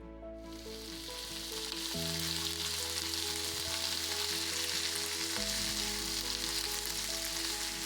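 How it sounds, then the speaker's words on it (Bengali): Onions frying in a pan for a marinated chicken dish give a steady, loud, close sizzle that runs unbroken and alone, with a few faint stirring scrapes mixed in. "পেঁয়াজ ভেজে নিচ্ছি।"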